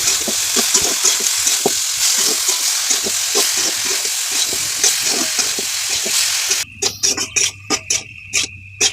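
Ridge gourd fries with salt and turmeric in a pan, a steady sizzle broken by rhythmic scraping strokes of stirring, then sharper, choppier scraping bursts toward the end.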